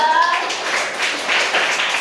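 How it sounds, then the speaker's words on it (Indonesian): Schoolchildren in a fourth-grade classroom clap their hands together, a short burst of quick, overlapping claps close by after a teacher's voice. "Tepuk tangan dulu dong."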